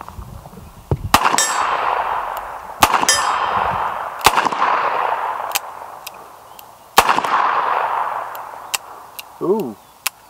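A Smython .357 Magnum revolver, a Colt Python and Smith & Wesson 19 hybrid, fires several loud, sharp shots at irregular intervals, each with a ringing metallic decay, and a voice speaks briefly near the end.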